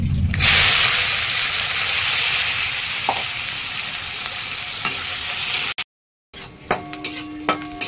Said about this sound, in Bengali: এবার দেবো পেঁয়াজগুলো ছেড়ে দেবো